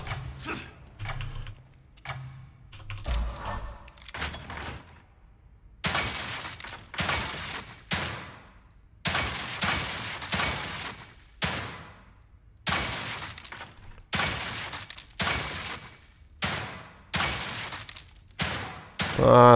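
Gunfire in The Evil Within 2, a horror video game: a rapid cluster of shots, then loud single shots at a steady pace of roughly one every second or so, each a sharp crack with a short tail. No voices.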